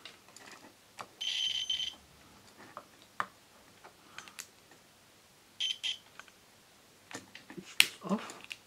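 A multimeter in continuity mode gives two short, clear electronic beeps a few seconds apart, separated by faint clicks and handling noises of probes and a switch on a DIY light bulb current limiter.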